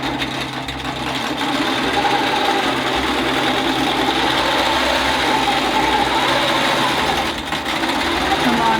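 A longarm quilting machine runs a continuous, fast mechanical stitching whir while stitching a wiggle pattern across a T-shirt quilt, loud and close with a steady rhythm and a brief dip near the end.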